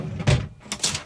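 Wooden drawers in a new Auto-Trail motorhome van conversion sliding and knocking shut, two short close thuds about half a second apart.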